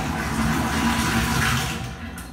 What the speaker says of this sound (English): we can actually create situations where the water does the opposite, where it flows when you pour it out